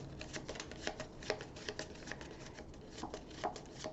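A deck of cards for the Oddville board game being shuffled by hand, a run of quick riffling and papery slaps repeating close up for several seconds.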